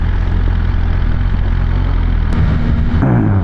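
A 2021 BMW S1000RR sportbike idles close by, a loud, steady low rumbling throb with a slight blip and roughened tone toward the end, no talking.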